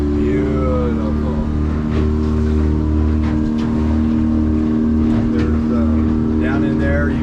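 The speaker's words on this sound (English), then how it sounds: "if you want to hear if it's running, you just lift the lever, put it in gear" A 2021 Searunner 190 boat's motor runs in gear, a steady loud low drone with constant tonal hum filling the whole stretch, close by, with faint scattered clicks and splashes on top.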